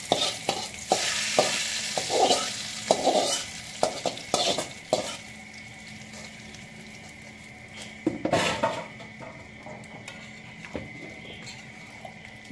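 A spoon stirring chicken curry with mustard seeds in a pan, giving repeated scraping and clattering strokes over a light sizzle that go quiet midway and then resume.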